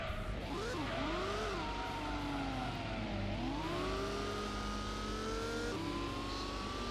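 Tuned race car engine in Gran Turismo, revving hard through rising and falling gear changes, loud and continuous with sweeping whine, alone without talk.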